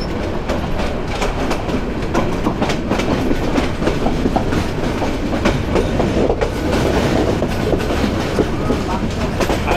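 The Meghna Express intercity train rolls slowly into the Laksam Junction platform, wheels clattering in a rhythmic clickety-clack with rattling carriages and brief metallic squeals, heard up close and loud.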